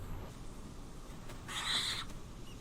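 An owl calls once in a brief, bright burst partway through, set against a quiet dark background with low rumble, fairly close and alone with no talk.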